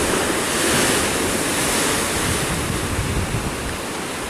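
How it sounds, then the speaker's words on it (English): Ocean surf rolls in a steady, loud, broad roar of breaking waves with wind rushing over the microphone, continuous and close, no voices. "with the waves crash in and out"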